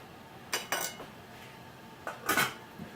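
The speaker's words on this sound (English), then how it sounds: "Right now I've got about 6 strawberries. We can see that right here when I get finished cutting them up." A knife cuts strawberries on a plate, making a few sharp clinks and scrapes in two short clusters, close and fairly clear over quiet room tone, with no talking.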